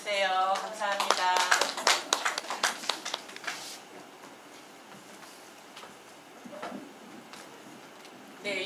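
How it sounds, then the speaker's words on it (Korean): Scattered applause from a small lecture audience welcoming a volunteer to the front, sharp claps crowding the first few seconds over a talking voice, then fading to a quiet room with a few isolated taps. "박수로 맞아주세요"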